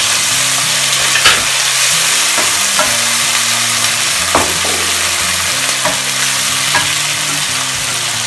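Potatoes, onion and tomato frying in a pot for chicken biryani, making a loud, steady sizzle broken by repeated scraping stirs and light utensil knocks every second or so, with no voices.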